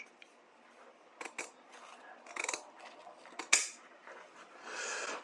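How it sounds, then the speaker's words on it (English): Pinking shears trim a fabric seam allowance on a bodice lining in a few quiet, separate snips, with short pauses between them and one sharper cut near the end. "I'm going to use my pinking shears and I'll just eye it"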